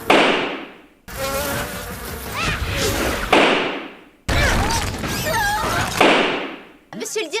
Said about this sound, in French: mes guêpes vont vous paralyser